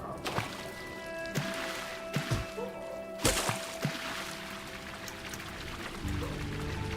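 A character in the video game Silksong dashes through water, producing splashy watery whooshes and a few sharp hits over a steady game soundscape with music, no voices.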